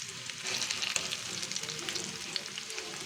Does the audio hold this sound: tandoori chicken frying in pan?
yes